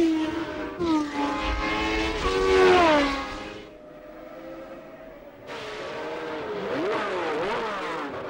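Formula One race cars at Kyalami in 1980 scream past in two loud bursts, engines rising and falling in pitch as they sweep by, with a brief quieter gap between the passes.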